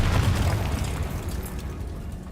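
A Confringo spell blast goes off in Hogwarts Legacy as a loud, deep boom that rolls and decays over a couple of seconds, with no speech.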